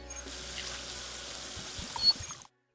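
Tap water runs steadily into a sink as hands are washed, a close, even splashing with a brief louder surge before it stops abruptly; no voices.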